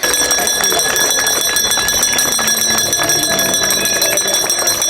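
A continuous electric school bell ringing loudly and steadily for the whole stretch at a last-bell ceremony, a harsh metallic clatter with a sustained tone.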